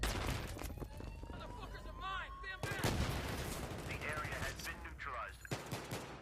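Dense rapid gunfire and bursts in the video game Battlefield 3 on PlayStation 3 crackle continuously alongside booms and whizzing effects, with voices shouting in the mix.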